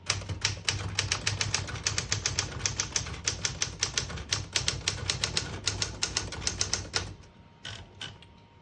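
Rapid, steady keystrokes on a 1971 Smith-Corona Super-Sterling portable typewriter, sharp clacks close by in a brisk rhythm for about seven seconds, then a few scattered strikes as it slows.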